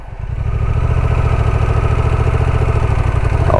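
A Honda Transalp 750 motorcycle engine labours uphill on an off-road trail, a steady, close, throbbing drone with rapid firing pulses holding at a constant pitch throughout.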